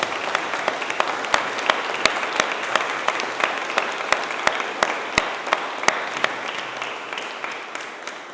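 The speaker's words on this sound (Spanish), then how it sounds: "Un aplauso para ellos." A church congregation applauds at a Christmas-season Aguinaldo Mass, a steady, dense wash of clapping from many hands that carries on throughout, with sharper individual claps standing out now and then.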